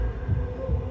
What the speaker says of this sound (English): We see her heart beating.